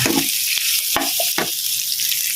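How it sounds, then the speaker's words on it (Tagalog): Garlic and onion sauté loudly in rendered pork fat, a close, continuous sizzling hiss broken by a few sharp crackles and stirring knocks. "maggisa na tayo ng bawang at sibuyas"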